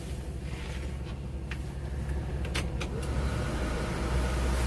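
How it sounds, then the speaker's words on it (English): Rear air conditioning running inside a Blue Bird school bus, a steady, even blowing hum that holds throughout at moderate level, with no talk over it. "So I have the rear air conditioning going."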